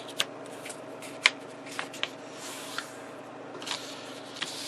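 Letter-size sheets of paper are folded over to fit inside the main cabinet of an RCA Radiola 60 radio during restoration. Soft, close rustles and crisp crinkles arrive in irregular bursts, and there is no talking.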